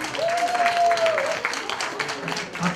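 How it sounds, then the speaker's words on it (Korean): Audience applause at a Korean mountaineering club's year-end party, steady clapping throughout with a voice speaking over it. "우리 다시 한번 박수 부탁드리겠습니다"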